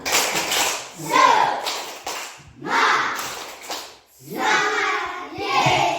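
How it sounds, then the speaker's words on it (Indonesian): Schoolchildren in a classroom clap a rhythmic spirit clap in three loud bursts separated by short pauses, with their voices chanting along amid the clapping. "Coba kita berikan tepuk semangat"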